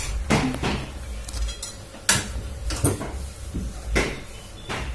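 Dishes clatter and scrape in a sink as pots and a wok are scrubbed, with several sharp knocks of pots and utensils spaced irregularly.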